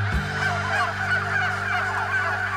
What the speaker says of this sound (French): Donc elles sont bruyantes vos dindes.